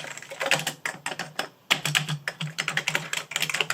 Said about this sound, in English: All keys seem to function fine.